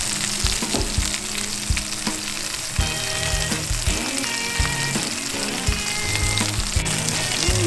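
Hot Italian sausage frying in a pan with garlic paste and garlic salt, a dense steady sizzle and crackle with occasional stirring clatter close by.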